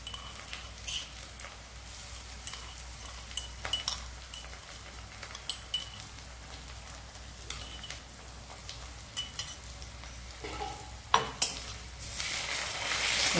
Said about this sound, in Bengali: এটাও একটু ভেজে এই রসুন আর আদার একটা গন্ধটা একটু নেড়ে নিতে হবে।